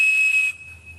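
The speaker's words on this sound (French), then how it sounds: "Cet objet, c'est un sifflet Captain Crunch." A Captain Crunch cereal-box toy whistle blown to produce a steady 2600 Hz tone: a sharp, piercing pitch that starts loud and breathy, then carries on thinner and quieter for the rest of the moment.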